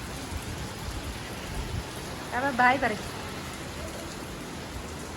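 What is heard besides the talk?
rain falling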